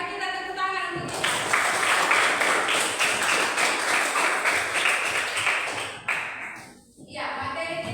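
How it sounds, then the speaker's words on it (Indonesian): A classroom claps hands together, a burst of rhythmic clapping starting after a second, sustaining loudly, briefly dropping out near the end, then resuming. "Mari kita tepuk tangan untuk Ika."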